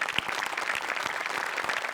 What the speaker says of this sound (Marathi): एकदा जोरात टाळ्या होऊन जाऊ देत